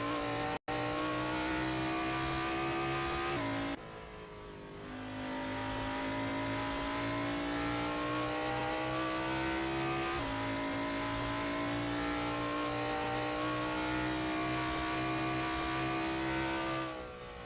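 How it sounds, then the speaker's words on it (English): Race cars in a Cobra series sim racing game drone past with a loud sustained engine note, briefly cutting out and rising again as pitch shifts between gears, steady and close with no talking. "There's not much better than sitting near here and watching the cars speed by."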